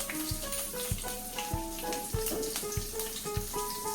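Half a teaspoon each of mustard seeds and cumin sizzling in hot oil on a low flame, a steady faint frying hiss with small pops under louder background music.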